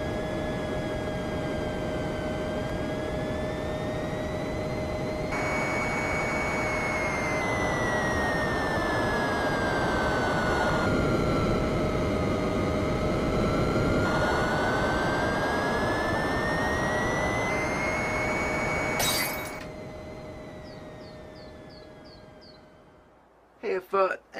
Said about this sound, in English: Oh yeah, I'm finally gonna land the plane.